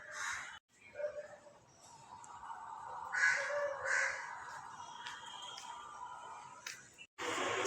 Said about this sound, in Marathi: सकाळची वेळ आहे पहाटेची वेळ आहे पक्षी सगळे उठलेत